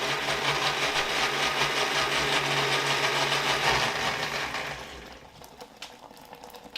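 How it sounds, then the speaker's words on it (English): A blender runs loud and steady, pureeing al pastor marinade to a smooth liquid, then winds down and stops, leaving faint knocks and handling noises. "This you do want to puree to like a liquid, a pureed liquid."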